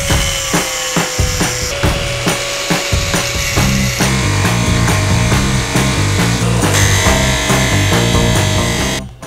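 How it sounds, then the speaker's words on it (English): A handlebar bracket for a custom Lambretta scooter is trimmed with a saw or file, producing loud, close, rhythmic rasping strokes that continue steadily for several seconds. "Just need to trim the bracket out."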